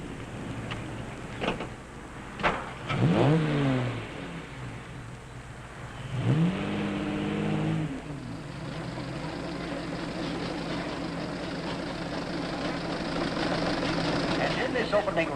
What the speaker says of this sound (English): Here is the Stanley Steamer, ready to defend its honor against the Model T.